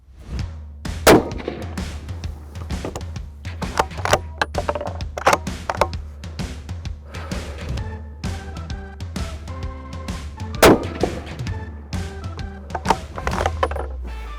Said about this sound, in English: I just put 2 bullets through the same hole in the dead center of a 1-inch square